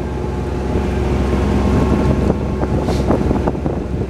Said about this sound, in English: It's gonna be windy up here